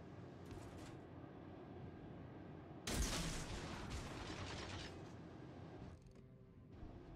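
In World of Warships Legends, a warship fires high-explosive shells, a single sharp booming salvo over a low, constant rumble of the battle, faint but distinct.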